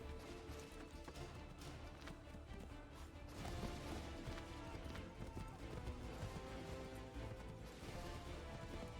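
Horse hooves gallop in Assassin's Creed III Remastered, a fast, fairly faint pounding rhythm buried under busy game sound and music that runs the whole stretch, with brief talk over it.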